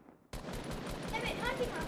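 Gunfire erupts in a Fortnite battle royale match, a fast, evenly spaced string of loud shots starting abruptly after a brief quiet moment, with a voice talking over it.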